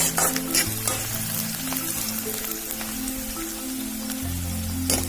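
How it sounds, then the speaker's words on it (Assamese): Onions frying in a pan until lightly browned, a dense, continuous sizzle with crackling pops heard up close, along with a low steady hum and no talking. "পিঁয়াজখিনি অকমান ৰঙচুৱা হোৱালৈকে ভাজি ল'ব লাগিব"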